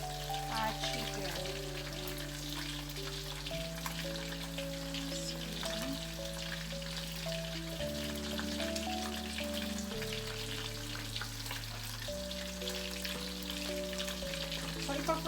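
Chicken fries in hot oil with a steady, dense sizzle and crackle that continues throughout, heard under background music.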